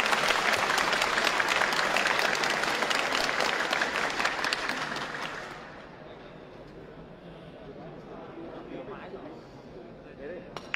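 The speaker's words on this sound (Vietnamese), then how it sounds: "Và một tràng vỗ tay cho Johan Chua trước khi Johan Chua phá bóng nào." Sustained audience applause at a pool match in the Southeast Asian Games, dense and loud for several seconds before fading into quieter crowd murmur.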